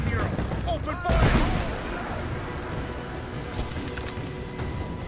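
Gunfire in Rise of the Tomb Raider, a dense fusillade of shots and impacts with a heavier crash early on, then sustained scattered firing and battle noise mixed with shouted voices.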